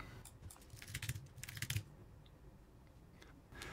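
Fingers type a password on a computer keyboard during a TrueNAS CORE user setup: quick, soft clustered key clicks in two bursts, then a pause and a few final taps. The clicks are faint and sit over a quiet room hiss, with no talk.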